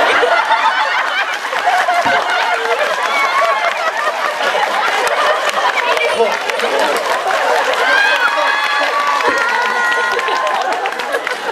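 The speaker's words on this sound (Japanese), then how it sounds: "박수의아주좋은예였습니다" Enthusiastic audience at a stage talk event, a loud dense roar of clapping mixed with cheering, chatter and laughter, continuous and close for the whole stretch.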